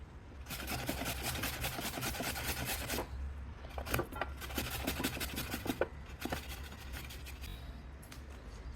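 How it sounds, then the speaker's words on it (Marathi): Fresh turmeric root being grated into long julienne strips: a rapid, rhythmic rasping scrape in continuous strokes with short breaks, close and fairly faint, with no talking. "तशी आपण ही सर्व हळद किसून घेऊया."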